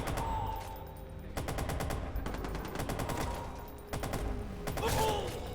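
Gunfire from the Watch Dogs Bad Blood video game, with repeated bursts of automatic shots and scattered single cracks over a busy game soundtrack, fairly loud and steady throughout.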